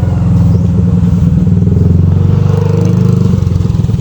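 A motorcycle engine idling loudly nearby on a farm, a steady low chugging rumble with slight fluctuations in pitch.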